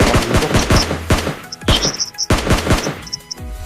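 Rapid bursts of gunfire in PUBG Mobile with sharp, repeated cracks in quick succession, separated by brief pauses and metallic pings, loud and close.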